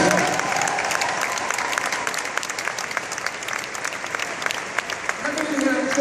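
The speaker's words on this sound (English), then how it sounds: "Give her a round of applause right here, please." Steady applause from a convention audience fills the room, dense and continuous throughout, with a voice beginning to speak over it near the end.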